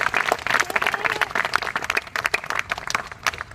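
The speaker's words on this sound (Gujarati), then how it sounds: "તાળીઓ." An audience at a school for disabled children claps during a Republic Day celebration, a burst of close, lively applause that rises and thins out with uneven hand claps.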